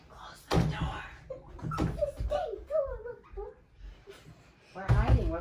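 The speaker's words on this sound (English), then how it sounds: "Close the door." A door bangs shut indoors at home, a couple of sharp thuds heard close amid people talking and a dog whimpering.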